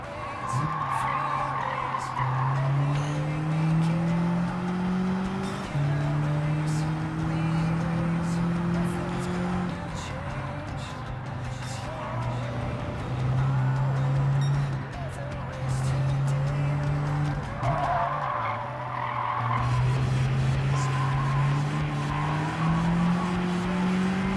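A stock, untuned factory car drives hard in Gran Turismo 7, its engine droning and rising through repeated gear changes with tire squeal throughout, while a person talks over it.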